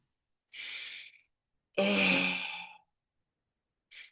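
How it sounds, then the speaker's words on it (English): Slow breathing in through the nose and out through the mouth as a calming exercise, heard as two close, breathy exhales with a short inhale between and a faint breath starting at the very end. "You breathe in through your nose and out through your mouth."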